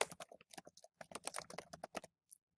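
Fingers type quickly on a computer keyboard, a close, crisp run of rapid key clicks in short bursts before stopping, with one last tap.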